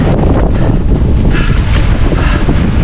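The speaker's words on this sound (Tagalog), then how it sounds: "hirap pag salubong sa hangin na yan" Strong wind buffets the microphone in a loud, continuous roar with no pauses.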